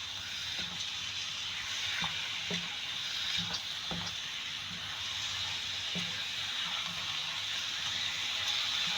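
Chicken fries in a pan for Singaporean rice, giving a steady close sizzle and hiss, with occasional soft taps of a spatula against the pan.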